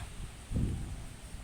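Cold wind gusts through a home garden of rambutan, longan and flowering papaya trees, a soft, steady rushing with a fuller swell in the middle, muffled against the microphone and without speech.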